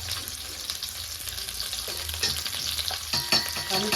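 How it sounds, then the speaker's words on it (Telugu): Bitter gourd frying in oil in a kadai over low heat, a close, steady crackling sizzle with occasional scraping stirs, no talking. "ఆయిల్లో వేసుకొని సిమ్లో పెట్టుకొని బాగా మెత్తగయ్యేంత వరకు ఉడికించుకోవాలి అదే ఫ్రై చేసుకోవాలి"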